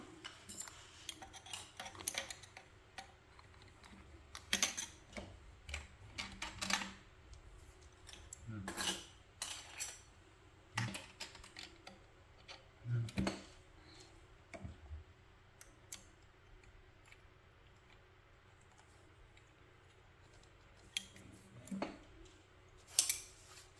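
Sewing scissors snip fabric around the sewn edge of a crossbody waist bag: irregular quiet clicks and snips, some in quick bursts, with soft rustling between them and no speech.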